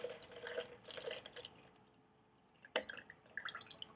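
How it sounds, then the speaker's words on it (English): Water trickles and splashes as it is poured into a homemade rain gauge over rocks, a faint, uneven pouring with a brief pause and a sharper splash near the end. "Now we're going to pour water up to the line where the top of your rocks are"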